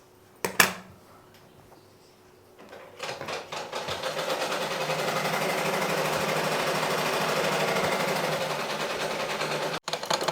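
Sewing machine stitching a seam on churidar pants, a quiet start with a couple of brief knocks, then a steady loud whirring run for several seconds that cuts off sharply near the end.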